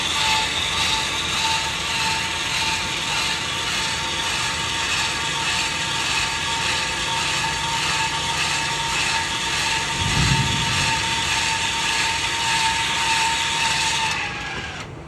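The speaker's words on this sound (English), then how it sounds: "Extend runs the jacks down" Electric stabilizer jacks on a 2024 Forest River Salem Hemisphere Hyper-Lyte 25RBHL travel trailer extending, a steady mechanical whine and gear drone running continuously for many seconds with a brief low thump midway before it cuts off.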